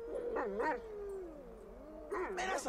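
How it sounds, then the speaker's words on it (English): In GTA 5, the dog Chop sniffs and whines close by, with rising and falling whimpers and yips at the start and again near the end, a long whine held between them. "Hey, Chop, what you smell? Chap, get back"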